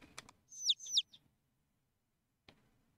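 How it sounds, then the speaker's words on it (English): Birds chirping in a quiet setting: two bright, sweeping chirps in quick succession, faint and clear, followed by a short sharp click after a pause of near silence. "the birds stopped chirping for an instant"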